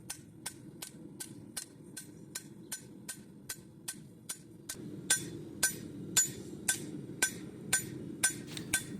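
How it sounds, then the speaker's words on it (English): Steady hammer blows on a hot steel knife blank being flattened at the forge, about two ringing strikes per second, sharp and close, with a low rumble beneath that grows louder partway through. "hitting it with the hammer and how easily it's moving, it is up to temperature"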